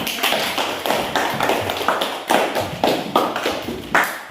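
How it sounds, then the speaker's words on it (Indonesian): Students in a classroom clap their hands together, a fairly close burst of uneven, overlapping claps pulsing in loose rhythmic waves for a few seconds, with no talking. "Tepuk tangan."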